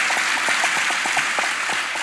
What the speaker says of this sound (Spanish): Primero un aplauso para ella.